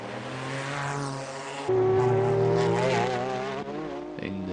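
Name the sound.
race cars at the 1999 24 Hours of Le Mans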